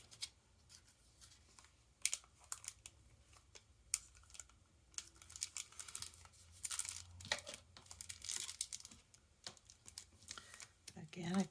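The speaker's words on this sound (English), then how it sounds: "remove the adhesive backing and fold this tight" Adhesive backing being peeled off a paper shaker card and the card folded tight, giving faint crinkling, tearing and tapping rustles in quick irregular bursts close by.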